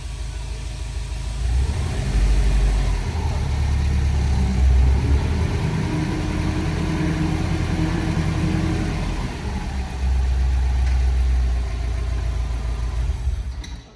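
A car engine idles steadily on a dyno, a loud, low, continuous rumble that holds for the whole stretch with slight rises and dips and no talk over it.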